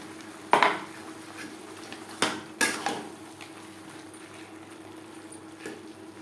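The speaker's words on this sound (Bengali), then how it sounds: "হাই টু মিডিয়া ফ্লেমে চার পাঁচ মিনিট নাড়াচাড়া করে নেব" Metal spoon scraping and knocking in a pan while aloo mutton curry is stirred over high to medium flame, a few sharp clanks over a low steady sizzle.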